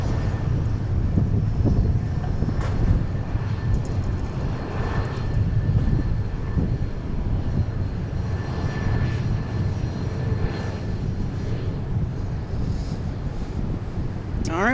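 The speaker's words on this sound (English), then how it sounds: "we got another departure here for Southwest Airlines" A Southwest Airlines plane departs Dallas Love Field, its engines a broad, steady roar heard from a distance, with wind buffeting the microphone throughout.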